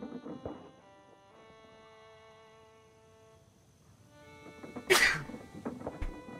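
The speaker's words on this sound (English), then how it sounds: "We got the sneezes this morning." A single sharp, loud sneeze bursts out midway over a quiet droning tonal hum, with a few faint softer sounds before and after.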